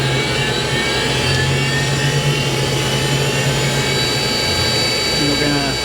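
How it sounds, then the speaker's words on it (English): A cutter grinder on a variable frequency drive spools up to speed, giving a steady, loud machine whine with a constant hum that holds throughout. "Grinder going and get it up to speed."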